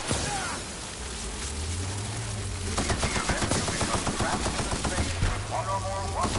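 Gunfire from a gun in The Outer Worlds video game, a fast run of sharp repeated shots over the second half, loud and close against game music and ambience.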